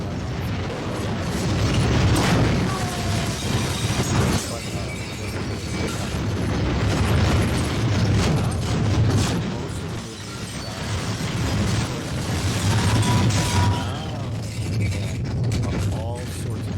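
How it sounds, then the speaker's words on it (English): Firecrackers bursting in the video game High On Life, a dense run of pops and booms over game music and mechanical clatter, loud and continuous for the whole stretch. "Firecrackers are going"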